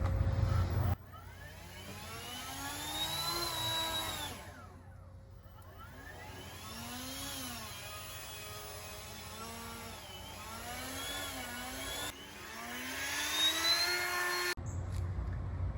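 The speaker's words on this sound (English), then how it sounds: "I'm blowing the dirt with this blower." A leaf blower runs steadily outdoors while someone clears dirt around a rental house, its engine whining with rising and falling pitch as the throttle changes, stopping briefly near the start and again at the end.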